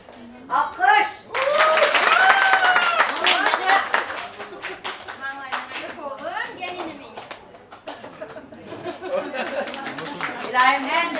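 Guests clap at a Turkmen wedding in Istanbul, a dense burst of applause that swells early and carries on under a voice and crowd chatter, fading and returning toward the end.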